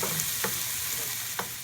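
Tomatoes cook down over low heat in a pan for toovar dal, sizzling softly and steadily while a spoon stirs them with a few brief scraping strokes.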